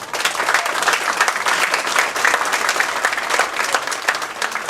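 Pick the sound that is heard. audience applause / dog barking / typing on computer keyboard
audience applause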